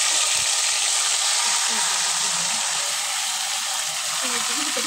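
Marinated meat frying in hot oil in a home-kitchen pan gives a steady, loud, broad sizzle that holds unbroken throughout, with faint clinks and stirring knocks underneath.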